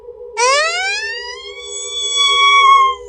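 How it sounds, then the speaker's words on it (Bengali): An ambulance siren wails up sharply, then holds a loud, steady tone and cuts off, heard alone against a faint low hum. "অ্যাম্বুলেন্সের সাইরেন।"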